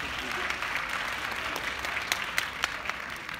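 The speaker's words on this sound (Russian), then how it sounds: "И Эдуарду аплодисменты." Moderately quiet audience applause for Eduard at a 2017 entrepreneurs' congress, an even patter of many hands with a few sharper individual claps standing out near the end.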